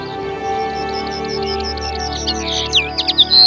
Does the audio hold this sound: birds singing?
yes